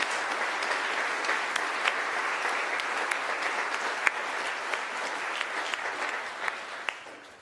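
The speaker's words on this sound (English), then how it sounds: "let's give them a much deserved round of applause" An audience at a church gathering claps in a broad, even round of applause, with a few sharper individual claps standing out, before the ovation thins and fades at the very end.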